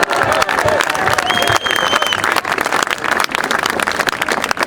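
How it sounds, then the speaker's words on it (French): An audience applauds the mayor at a public anti-racism gathering, a dense, loud wash of clapping from a crowd that carries on steadily, with a few faint whistles or cheers mixed in. "On applaudit monsieur le maire"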